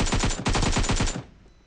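A short, fast burst of automatic gunfire in a PUBG Mobile fight, about a dozen rapid shots loud and close, cutting off to a faint tail.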